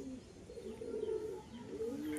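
A pair of pigeons, male and female, cooing in a low continuous drone, close and soft over a faint background hiss.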